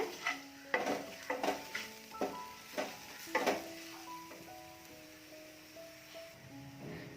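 A spoon works ground spice powder into a mushroom puttu mixture in a bowl, giving a run of soft scraping strokes and light metallic clinks with brief ringing tones, quiet and close, fading toward the end.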